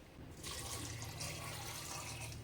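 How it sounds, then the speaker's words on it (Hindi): Water pours steadily into a pressure cooker holding vegetables and drumsticks for a rock-salt soup, a continuous splashing rush starting after a brief quiet moment and running to the end, fairly close and with no talk. "इसमें मैं 2 बड़े गिलास पानी मिलाऊंगी।"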